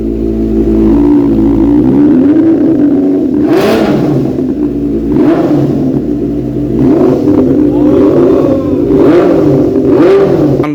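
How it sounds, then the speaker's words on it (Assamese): Benelli 650 motorcycle engine, with a noted racing-related fault, running loud and steady throughout with several rising revs standing out, close up with no speech. "এইখন হ'ল বেনেলিৰ আপোনাৰ 650। এইখনৰ চাউণ্ডটো শুনাই আছোঁ ৰ'ব।"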